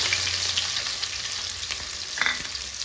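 Green chilies and onions fry in a pan with a steady close sizzle and crackle, plus the soft scrape of stirring now and then.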